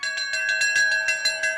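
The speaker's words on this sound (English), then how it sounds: "Ring that bell." A bell rung repeatedly at the finish line of the Nanaimo bathtub race, about nine bright metallic strikes in quick steady rhythm, loud and close, ringing on with sustained overtones between hits.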